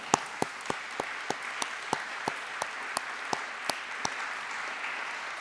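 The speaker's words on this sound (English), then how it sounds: "a round of applause to our panelists" Sparse, evenly spaced claps ring out for conference panelists, a thin and fairly quiet round from only a few hands rather than a full crowd, with no talk.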